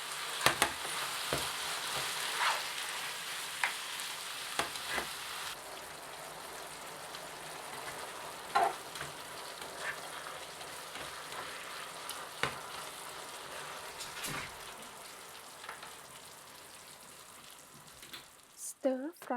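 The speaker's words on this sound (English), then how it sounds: "Add green onions and stir fry everything until combined." Pork stir-fried with green onions and red paprika in a pan, a steady soft sizzle running throughout with scattered clicks and scrapes of stirring, moderately quiet and without talk.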